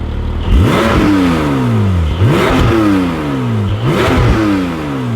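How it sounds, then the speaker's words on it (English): A Porsche 718 Spyder engine revs hard three times in a row, each blip rising then falling back, exhaust valves closed, note fairly muted and steady, close by. "let's listen to the before with the valves closed"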